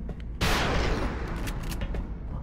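A loud burst of gunfire erupts after a short pause, a sustained crackling volley from a turn-based XCOM Enemy Within Long War battle, ringing out and decaying over the next two seconds.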